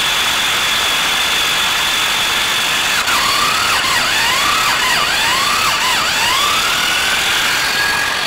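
A T-25 tractor engine, just back in use after winter, runs loud and steady, then from midway gets several quick revs that rise and fall in pitch one after another.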